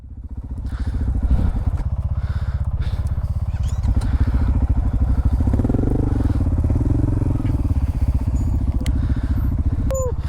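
A dual sport motorcycle's single-cylinder engine revs and chugs loudly up close as the rider works it up onto a rock outdoors, the pitch rising and falling with throttle blips amid clatter and faint thumps.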